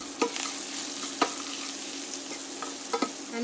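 Hing, pounded garlic and chili frying in a pan with a steady, moderate sizzle, punctuated by a few sharp scrapes of a spoon stirring against the metal; no voices.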